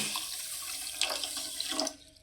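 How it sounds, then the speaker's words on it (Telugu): Half a glass of water pours into a pan of sugar to make syrup for bread halwa, a quiet steady splashing stream for about two seconds that then stops abruptly. "ఇప్పుడు ఇందులో ఒక హాఫ్ గ్లాస్ నీళ్ళు వేసుకుంటాను"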